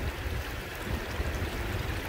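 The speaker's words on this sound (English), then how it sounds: "you still want plenty of water coming through" Water rushing steadily through a gold panning sluice on a Scottish stream, a continuous broadband wash with low churning gurgle, close and even throughout with no voices.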